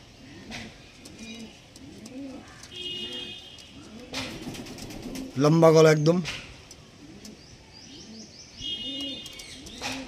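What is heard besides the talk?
pigeons cooing after being released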